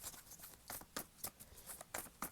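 Tarot cards being shuffled by hand, a quiet run of soft papery riffles and flicks in irregular bursts, close and faint with no talking.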